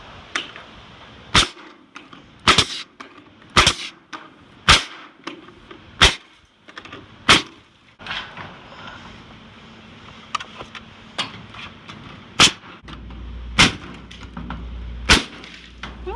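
Nail gun firing nails at an angle into the wooden boards of a raised garden bed, about a dozen sharp, loud cracks at irregular intervals with quiet handling noise between.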